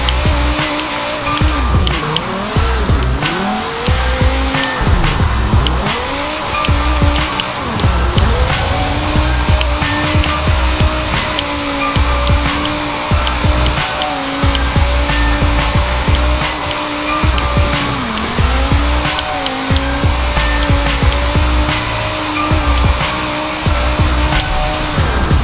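A car in Forza Horizon 4 roars steadily throughout, its loud engine note revving up and down in repeated sweeps, with tire squeal under the drone.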